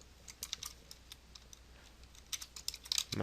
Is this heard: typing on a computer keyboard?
yes